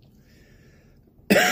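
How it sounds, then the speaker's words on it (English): A single sharp cough bursts out near the end after a stretch of quiet background hum, while tasting a hot, vinegary sauce. "Not helped by the fact that I still have a little bit of cough."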